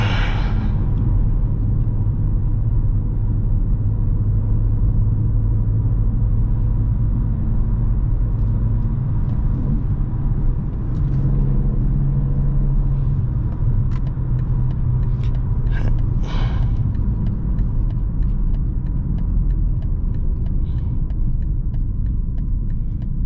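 A rear-wheel-drive BMW M4 on Pirelli tires drives on a 54-degree day, its engine and road noise a steady, loud low rumble throughout, with a few faint clicks and knocks mid-drive.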